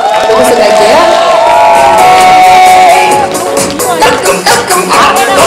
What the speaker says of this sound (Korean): 여러분 다시 한번 큰 박수로 함께해 주시기 바랍니다.